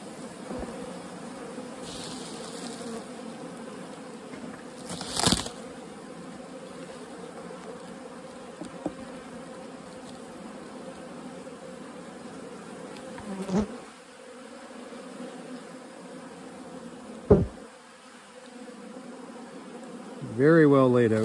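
A dense, droning hum of many honey bees buzzing around a hive nearby, steady throughout, with a few brief knocks and louder passes of individual insects.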